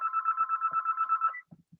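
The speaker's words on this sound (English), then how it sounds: "This is my phone." A mobile phone rings nearby with a fast warbling electronic trill in a repeated pattern. It cuts off abruptly and is followed by a few soft low thumps.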